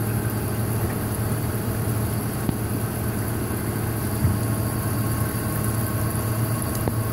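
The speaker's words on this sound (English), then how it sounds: "whenever we're regrinding a camshaft, we'll try to remove the minimal amount of base circle possible" A grinding machine regrinds a camshaft lobe for a Honda F-series SOHC VTEC engine, producing a steady, loud, droning mechanical hum with a constant whine and occasional small ticks, and no voices.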